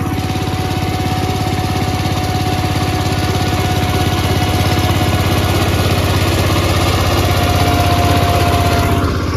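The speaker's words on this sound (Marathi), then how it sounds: "तर यो असं आपलं ट्रॅक्टर आणि आता आम्ही जातो" A tractor engine idles close by on a farm, a loud, steady low rumble with an even mechanical throb that holds constant and unbroken from start to finish.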